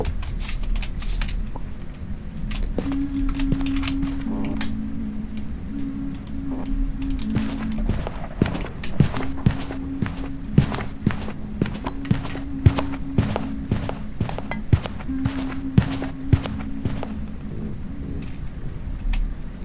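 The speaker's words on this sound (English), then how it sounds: "I am listening to the footsteps here." Footsteps in the horror game Phasmophobia thud in a steady, repeated rhythm for nearly twenty seconds, loud and close over a low droning hum, with no speech.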